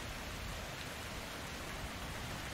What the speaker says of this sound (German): So ein bisschen frischer Regen tut bestimmt gut.